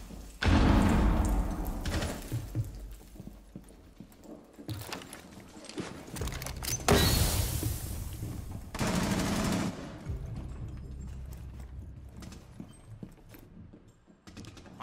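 Gunfire in the Rainbow Six video game: loud bursts of rapid automatic fire come in several sharp volleys, separated by quieter stretches of clicking and movement.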